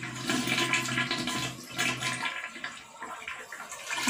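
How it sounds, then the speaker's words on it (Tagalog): A household toilet, being repaired for a water leak, flushes with a loud rush of water that surges, dips briefly and swells again as the tank refills. "I-flash natin"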